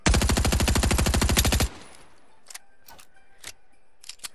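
A submachine gun in Fortnite fires a rapid, evenly spaced burst for over a second, loud and close, followed by a few scattered clicks and taps.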